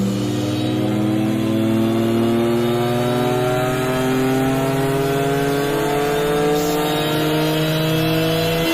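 An Opel Corsa fitted with a 3.2 V6 engine revs on a dyno, its tone climbing smoothly and loudly through the rev range in one long sustained pull, up close with no voices.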